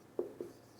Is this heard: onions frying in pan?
no